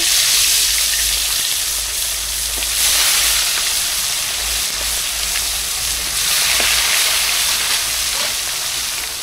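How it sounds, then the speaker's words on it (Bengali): Pieces of mrigal fish frying in hot oil in a pan, giving a steady, loud, broad sizzle and crackle that swells and eases slightly without pause. "এবার বাকি মাছগুলো ভেজে নেব।"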